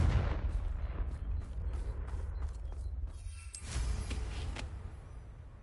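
A Confringo fire spell from Hogwarts Legacy bursts in a rumbling game explosion, with a deep roar, crackling impacts and a sharp burst near the middle, continuous and loud.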